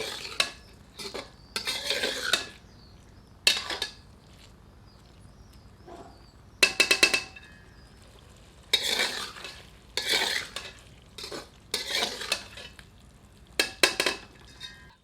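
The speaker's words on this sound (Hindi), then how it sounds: "इसे मुर्ग में मिलाकर 2 मिनट मध्यम आंच पर भूनते हैं" Spoon scraping and stirring chicken with ginger-garlic paste in a metal pan over medium heat, in a series of close, intermittent bursts with quiet gaps and a faint sizzle between.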